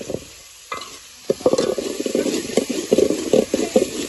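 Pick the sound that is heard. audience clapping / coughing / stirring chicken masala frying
stirring chicken masala frying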